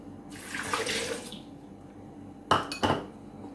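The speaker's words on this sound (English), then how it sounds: "Add a cup of milk." Milk is poured from a cup into a blender over chopped bananas for a peanut butter banana smoothie, a soft splashing pour lasting about a second, followed by two quick clinks of kitchenware.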